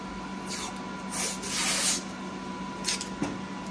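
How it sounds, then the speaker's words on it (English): Painter's tape being rubbed and smoothed onto a Yeti cup, a soft scraping rustle that swells in two brief passes and ends with a few small taps, close and quiet, with no talk. "So what you can do is apply painter's tape."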